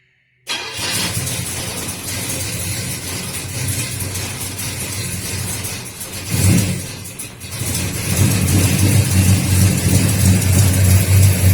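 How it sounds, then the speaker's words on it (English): A Pontiac GTO engine fires up abruptly from silence and runs at a loud, steady idle, briefly surging around the middle before settling into a stronger, rougher run. "But we're going to fire it up so it's got gas and everything in it."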